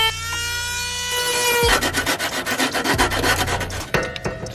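Cut edges of a roll bar install on an NA Miata being smoothed by hand, a close rasping filing sound in quick repeated back-and-forth strokes after a short ringing metallic tone at the start, with no talk.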